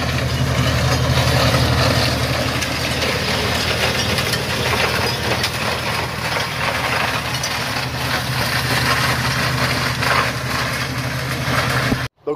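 A wood shredder driven by a tractor grinding pruned branches close by: a loud, continuous roar of engine drone and crunching, splintering wood that holds steady for about twelve seconds before cutting off abruptly.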